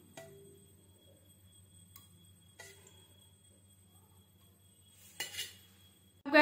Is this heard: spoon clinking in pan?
yes